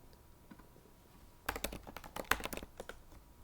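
Typing on a computer keyboard, a quick burst of clustered clicky keystrokes starting after a quiet pause, close and fairly loud, no talking.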